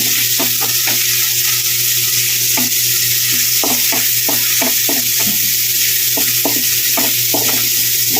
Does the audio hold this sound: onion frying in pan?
yes